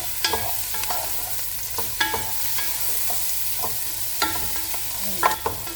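Crushed garlic and ginger frying in a pan for shrimp machboos produce a low steady sizzle broken by repeated sharp scrapes and clinks of stirring, close and alone without talk.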